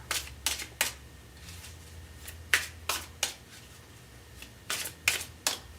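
Tarot cards being shuffled and a single card drawn, a series of crisp riffling flicks and snaps spaced out close by, with little else around them.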